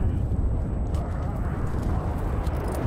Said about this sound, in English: Who's bombing us? Oh, that's artillery, isn't it? No, that's a bomb.